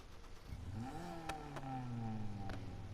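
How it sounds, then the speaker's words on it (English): A video game car engine revving up and easing off, its pitch rising then gliding down, heard at moderate distance with some rattling clicks and a slight exhaust resonance. "You can hear I've got a bit of resonance on the exhaust there."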